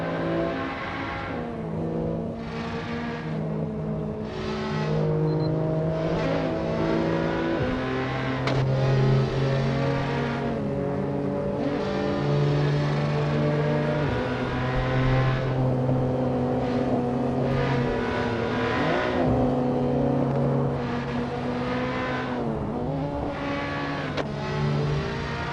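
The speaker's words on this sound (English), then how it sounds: "Yeah, that car is loud." A loud race car engine in a racing video game revs and roars continuously, its pitch climbing and dropping through repeated gear shifts over the whole stretch, sounding close and sustained with no voices over it.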